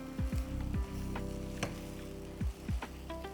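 Vegan dal makhani base sizzles steadily in a pan, with several scraping stir strokes and a few light clinks of a utensil against the metal, close and without talk.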